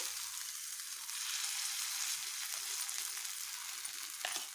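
Apam batter fries in a little oil in a pan on a gas stove, giving a steady, close hiss of sizzling with faint crackles, alone without talk.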